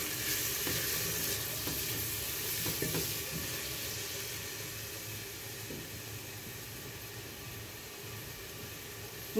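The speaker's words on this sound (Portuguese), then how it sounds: "Vamos fritar esses temperos aqui, cebola e alho." Onion, garlic and bell pepper frying in a pan give a steady, close sizzle that holds through the whole stretch, with a few soft knocks of stirring and no talking.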